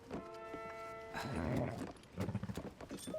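A horse's hooves clip-clop in Zelda: Tears of the Kingdom near Kakariko Village. A few close, uneven hoof thuds follow a brief tonal game sound.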